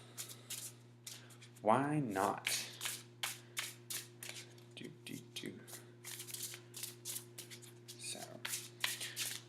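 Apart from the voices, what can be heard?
shuffling oracle cards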